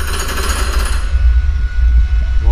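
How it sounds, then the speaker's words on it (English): Blender grinding up a heart in a horror video game, a loud, harsh mechanical whirring and chopping that runs for a couple of seconds on its own. "Oh, someone's blending up a heart."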